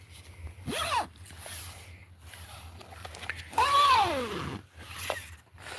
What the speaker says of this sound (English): So you can zip it down this way.